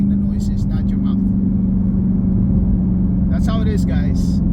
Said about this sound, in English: the sound that you're making with your mouth is now being made by your car.